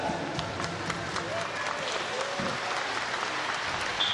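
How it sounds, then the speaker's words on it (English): Ironic applause from the crowd at a 1m springboard diving preliminary in Glasgow, a steady, moderately loud wash of clapping lasting throughout, with faint crowd noise underneath. "Ironic applause there"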